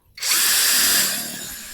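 A JIAPU SS-168-100 16.8V brushless cordless drill bores into red brick, starting abruptly with a loud high whine and grinding that holds steady before easing slightly, close and alone.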